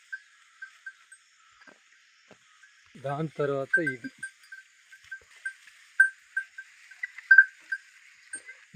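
A young calf on a small dairy farm lets out one short, wavering bleat close by, amid quiet clinks and faint background noises.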